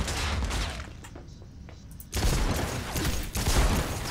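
Heavy gunfire from a powerful weapon in Cyberpunk 2077, loud dense bursts filling the scene, with a brief lull in the middle before the shooting resumes even harder.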